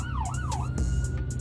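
An ambulance siren wails with a rising and falling sweep, passing nearby with a steady, fairly loud tone over low traffic rumble; no talking.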